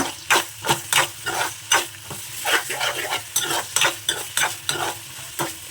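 Chicken liver frying with turmeric in a pan sizzles loudly up close while a spoon stirs in quick, rhythmic scrapes and knocks, about two strokes a second, with no talking.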